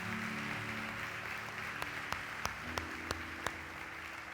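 A church congregation applauding during a service, a steady sustained wash of clapping with a few sharper individual claps standing out toward the end.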